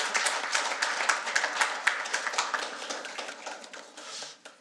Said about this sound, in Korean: 회사산업기술과장님께 다시 한번 우리 큰 박수 부탁드리겠습니다.